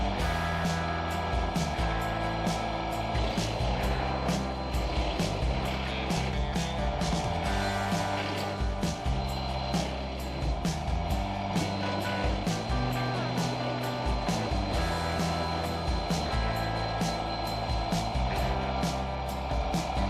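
A Titan BX42S wood chipper shreds freshly cut branches, a dense, continuous mechanical roar with a steady engine drone and rapid crackling, chattering bursts as limbs are fed through, loud and close throughout.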